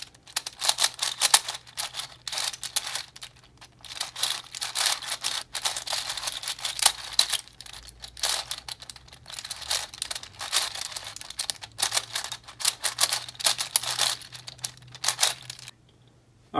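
A Lefun Time Machine puzzle cube being turned, giving dense rapid clicking and rattly plastic clacks in quick bursts, close up and steady for about sixteen seconds with no talking.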